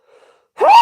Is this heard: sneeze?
yes